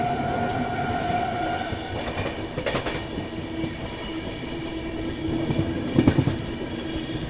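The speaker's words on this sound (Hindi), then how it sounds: "अंत में ट्रेन स्लो हो जाती है।" Passenger train rolling on rails and slowing, heard from inside a carriage as a steady low rumble with occasional louder clunks and rattles, no talk.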